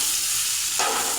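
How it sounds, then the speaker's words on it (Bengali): Cut potatoes fry in hot oil in a pan with bay leaf and whole cumin, giving a steady close sizzle that jumps up sharply and brightens partway through. "আলুটা লাল লাল করে ভেজে নেব।"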